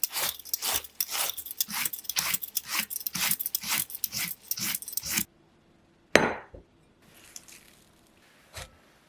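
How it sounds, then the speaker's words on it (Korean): A knife finely shreds cabbage on a cutting board in a home kitchen, a rapid, regular series of crisp crunching chops lasting about five seconds, then a single scrape and a few soft knocks. "양배추는 가늘게 채 썰어 줄게요."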